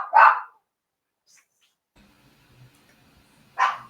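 A small dog barks at horses passing by, two sharp single barks separated by a few seconds of near silence, fairly close and loud, with no talking.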